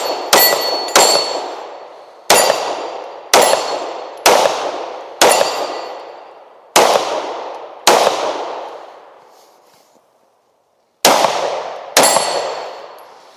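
Sig P365 X Macro pistol firing ten sharp, loud shots in uneven bursts, each crack ringing out with a decaying metallic tail, followed by a short quiet gap before two more shots.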